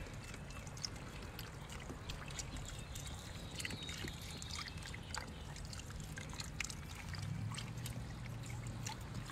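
A full box of beef broth is poured into a cooking vessel for red wine braised short ribs, a steady liquid trickle and splash running nearly ten seconds, close and moderately loud, without talk.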